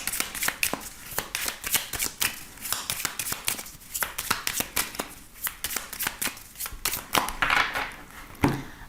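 Tarot cards are shuffled and cut by hand, giving rapid crisp riffling snaps and slaps in an irregular but steady run, close and fairly loud, with no talk.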